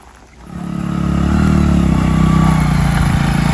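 A motorcycle engine starting up close by and building to a loud, steady throbbing drone as it pulls away, with no talk over it.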